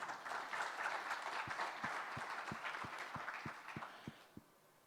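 Audience applause for a panel on sovereign wealth funds and investment in Ethiopia, a broad sustained clapping with a few louder claps near the front, tapering off at the end.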